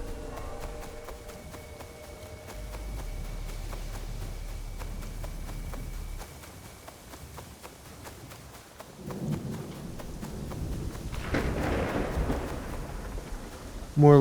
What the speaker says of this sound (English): More lightning, but that sounded closer.